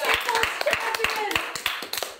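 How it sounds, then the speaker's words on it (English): An audience claps during a speech, about a dozen crisp, separate claps in a loose uneven rhythm, close and fairly loud, while people talk over them. "You guys clapped so they couldn't hear the speech"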